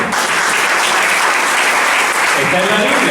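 Sustained audience applause fills a church service setting, dense and loud for the whole stretch, with a voice faintly speaking underneath near the end.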